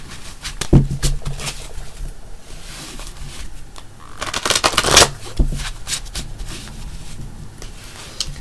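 Tarot cards shuffled by hand up close, a run of crisp riffling and flapping bursts with soft card slaps, fairly loud and irregular, with no voices.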